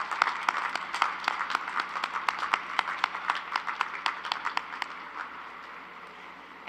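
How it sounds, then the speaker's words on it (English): A commencement audience applauds graduating students, a scattered but steady patter of individual claps from a moderately distant crowd that continues evenly and begins to taper off near the end. "Please join me in applause to acknowledge the scholastic achievement of all of these"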